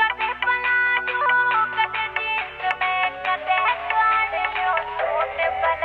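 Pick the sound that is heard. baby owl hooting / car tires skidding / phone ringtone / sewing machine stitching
phone ringtone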